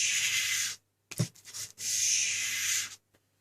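Wet-dry sandpaper rasps under a convex knife blade being dragged for polishing, with two long, steady abrasive strokes close up and a short scuffing shuffle between them.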